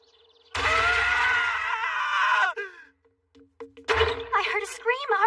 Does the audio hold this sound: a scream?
yes